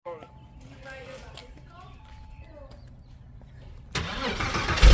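A sports car engine starts up inside a garage, a sudden loud burst that swells into a roaring idle after a stretch of quiet talk between people.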